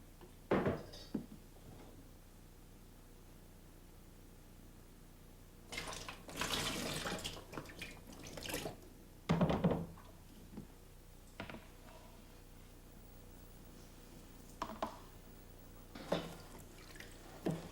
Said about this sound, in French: la solution de sulfite est remise dans le contenant de 4 litres